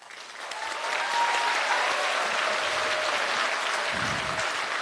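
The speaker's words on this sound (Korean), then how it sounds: "좋은 말씀해 주신 문 후보님께 다시 한번 큰 박수 부탁드리겠습니다" A university lecture audience at Mokpo National University claps loudly for presidential candidate Moon Jae-in, building quickly into a dense, sustained round of applause that fills the room.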